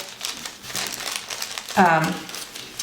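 Paper being folded into an origami seal, a brief crisp crinkle and rustle under a person's talking, soft and close.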